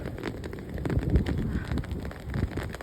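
Steady rain falls outdoors near a passing train, a dense hiss of drops with scattered louder patters throughout, close and fairly loud with no talk.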